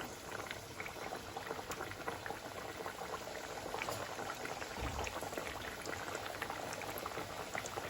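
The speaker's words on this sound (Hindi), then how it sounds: "जैसे ही हम गरम तेल में पूरियों को डालते हैं वो फूलने लग जाती है।" Bedmi puris bubble and froth in hot oil, a dense, even crackling fizz with tiny pops throughout, close and steady with no voices.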